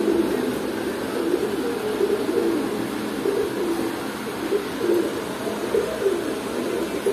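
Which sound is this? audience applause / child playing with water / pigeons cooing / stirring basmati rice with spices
pigeons cooing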